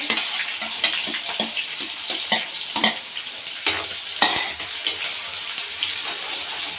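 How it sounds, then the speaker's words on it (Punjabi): Onion and green chilli fry in a hot pan for a radish bhurji, with steady sizzling broken by repeated scraping clicks of a spoon stirring the mixture. "ਇਹਦੇ ਵਿੱਚ ਪਾਵਾਂਗੇ ਜੀ ਅਸੀਂ ਪਿਆਜ਼ ਤੇ ਹਰੀ ਮਿਰਚ ਇਕੱਠੀ ਪਾ ਦਾਂਗੇ"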